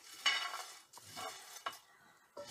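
Sunflower seeds scrape and rattle as they are stirred around a hot frying pan in repeated sweeping strokes, with a faint sizzle underneath.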